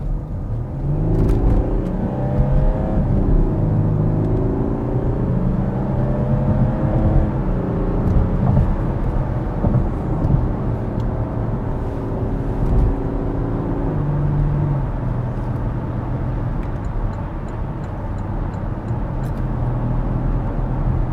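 A Porsche Cayenne Diesel accelerates at full throttle, its engine rumbling loud and close with a rising, torquey drone that sweeps upward across the run. There are brief pitch steps where it shifts gears, and a steady road roar underneath.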